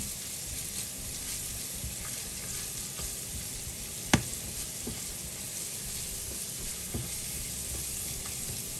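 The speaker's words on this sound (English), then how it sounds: "Just gonna stir it for a little bit. So we're just gonna toss it a little bit." Food being stirred and tossed in a hot frying pan while cooking Afghan mantu filling, a steady close sizzle with a sharp clatter of the utensil against the pan near the middle and a few softer knocks.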